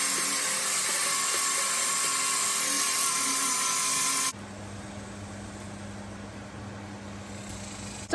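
Paint being sanded and scraped off a surface from a ladder: a loud, steady power-sander whine runs for about four seconds, then cuts to a quieter, lower hum for the rest.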